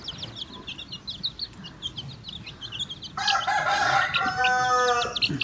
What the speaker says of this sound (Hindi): छोटे छोटे चूजे, छोटे छोटे चूजे,